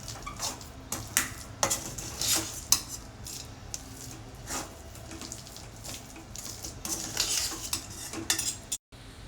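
Gongura pickle stirred together with ground tempering powder in a bowl: repeated close clinks and scrapes of a spoon against the dish in an uneven rhythm, with no talking.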